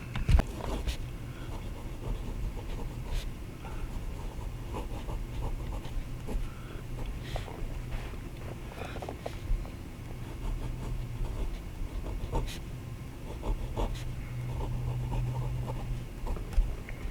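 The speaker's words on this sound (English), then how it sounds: "Hopefully you heard how smooth this nib is. It just glides across the paper, lays down a consistent line." Fountain pen nib gliding smoothly across paper, a soft continuous scratch with faint repeated strokes, close and quiet against a low steady hum, no talking.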